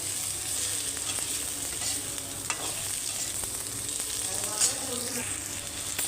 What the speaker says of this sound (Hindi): पहला भिंडिया फ्राई करो